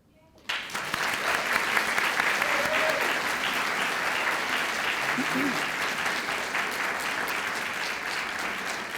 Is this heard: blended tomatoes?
no